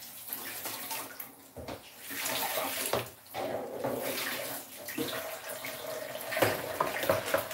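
A kitchen tap runs steadily into the sink during washing up while cabbage cooks, a loud broadband splash and rush that surges and dips as dishes move under the stream, with no speech.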